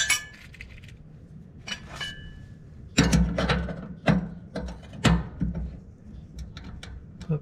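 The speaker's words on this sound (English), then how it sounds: "I'm gonna stick my bolt up through there." Metallic clinks, taps and rattling as a bolt is fitted through the sickle of a John Deere 1209 mower-conditioner, irregular close knocks and scrapes of hardware with quiet pauses between.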